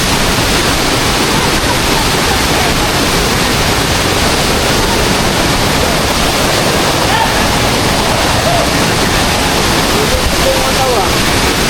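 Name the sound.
waterfall at Sambugahay Falls, Siquijor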